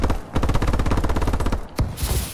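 Rapid automatic gunfire from an MK14 rifle in the video game Call of Duty: Advanced Warfare, a steady loud burst of about twenty evenly spaced shots followed by a sharp single crack and a brief trailing rattle.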